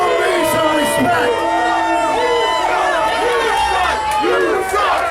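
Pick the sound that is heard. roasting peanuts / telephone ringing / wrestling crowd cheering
wrestling crowd cheering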